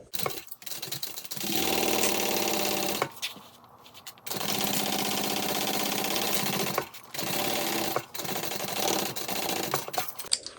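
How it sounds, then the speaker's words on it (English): A sewing machine runs in long steady bursts, stitching the seam of a Mr Heckles handbag, with brief pauses between runs and a short stop near the middle. "I'm going to go ahead and sew that at the seam allowance given in the pattern."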